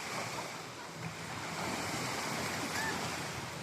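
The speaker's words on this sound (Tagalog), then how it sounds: "Lakas ng wave na." Strong ocean surf at a beach gives a steady broadband wash of breaking waves with wind noise on the microphone, continuous and fairly loud for a few seconds.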